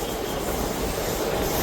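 The Howrah Jaynagar Express rushes past close by, a brief, loud and unbroken rolling roar of wheels and carriages.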